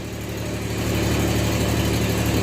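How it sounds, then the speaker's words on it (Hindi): A railway locomotive engine arriving at a station platform gives a steady, loud, low diesel rumble that holds constant and close throughout, with no voices. "इंजन यही वाले प्लेटफॉर्म पे आ रही है"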